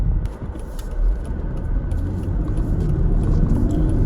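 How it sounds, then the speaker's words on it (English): Engine rumble from a 2001 Mercedes-Benz E320 with a 3.2-liter six-cylinder while driving and shifting gears, a steady low drone with a brief dip in loudness, heard from inside the car. "when it shifts into the next gear, it's a nice, smooth, easy shift"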